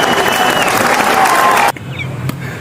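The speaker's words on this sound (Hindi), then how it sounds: "तालियां।" A group of people claps and cheers briefly at a restaurant table, a burst of applause that cuts off abruptly, followed by quieter room noise and a single clap.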